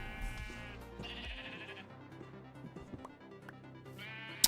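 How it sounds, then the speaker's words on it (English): Sheep in the Minecraft video game bleat several times, loud and near, with overlapping calls alone over quiet game background. "I need that sheep to move"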